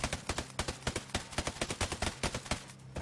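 Rapid bursts of automatic gunfire from sentry guns in a shooter video game, loud and close, with irregular clusters of sharp shots repeating over a steady low rumble.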